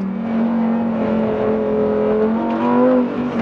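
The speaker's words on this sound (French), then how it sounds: "Et le son du moteur, toujours hein, on retrouve ce V10 très couplé de cette voiture." A Lamborghini Huracan STO's V10 engine drones steadily, its pitch climbing slowly as it accelerates hard on a track, loud and close, with no voices.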